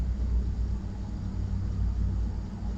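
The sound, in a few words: souped-up SUV approaching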